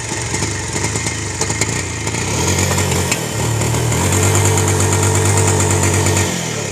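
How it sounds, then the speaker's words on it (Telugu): Motorcycle engine idling unsteadily up close, its low chugging rising and falling in pitch and speed rather than settling, with a rough irregular beat throughout. "బండి చూస్తుంటే మామూలు స్లో స్పీడ్గా నిలబడడం లేదు,"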